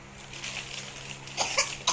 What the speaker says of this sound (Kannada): ಎಷ್ಟು ಕೆಮ್ತಿದ್ದಾಳೆ